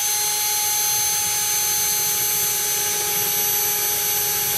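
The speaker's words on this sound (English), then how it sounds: "I shall drill the hole" A power drill bores a hole for routing doorbell wires during a home installation, giving a steady, loud, continuous high-pitched whine that holds without a break for several seconds, close by and alone.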